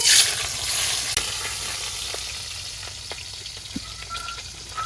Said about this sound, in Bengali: কড়াইতে তেল দিয়ে দিলাম চিংড়ি মাছ দিয়ে দিলাম